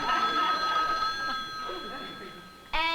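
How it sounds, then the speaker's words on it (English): A telephone rings in a 1961 sitcom scene, a steady high-pitched ring running under talking voices, followed by a sharp new burst of ringing near the end. "How can the phone be ringing when you are talking to Papa?"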